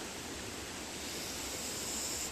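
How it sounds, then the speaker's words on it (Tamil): Cold water from a forest stream flows at a small scenic cascade near Salem, making a steady, close, broadband rush that holds constant throughout with no voices. "ஃபாரஸ்ட்டுக்குள்ளேருந்து வருது தண்ணி."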